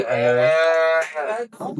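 A close, loud bellow from a pregnant Sahiwal cow, with a rising, harmonic tone lasting over a second, followed by a brief second call.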